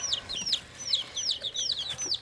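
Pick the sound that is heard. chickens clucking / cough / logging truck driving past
chickens clucking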